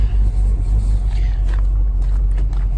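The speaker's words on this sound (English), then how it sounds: "we definitely got an occasional misfire" A Maserati Quattroporte engine idles with a steady low rumble, its running broken now and then by an uneven stumble from an occasional misfire, heard close up with no talk.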